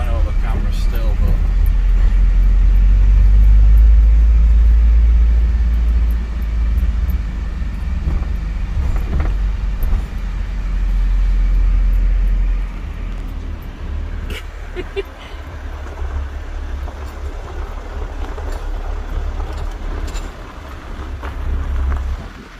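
Car driving over rough, bumpy roads in Ukraine, heard from inside as a loud, continuous low rumble with jolts and rattles, plus wind buffeting on the microphone.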